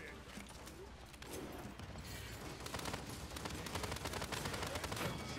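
Rapid gunfire from the hero shooter Paladins, with shots fired in quick succession that grow steadier and louder toward the end, under someone talking.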